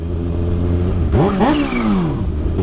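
A Kawasaki Ninja H2 motorcycle idles with a low steady rumble, then gives a quick, loud throttle blip that swells and falls away before it settles back to idle, close by.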